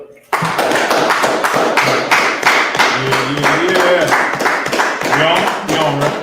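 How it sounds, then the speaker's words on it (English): Hand clapping breaks out sharply and continues as a loud, fairly rhythmic patter of claps close by, with voices talking over it throughout. "Clap it up"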